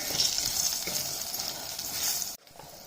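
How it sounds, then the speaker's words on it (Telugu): Thick green chillies fry in hot oil while being stirred, a loud, dense sizzle with scraping stir sounds that cuts off abruptly near the end. "పచ్చిమిరపకాయలు కొంచెం తోడక మందం ఉన్నాయి అందుకే అమ్మ కొంచెం బాగా వేయిస్తుంది"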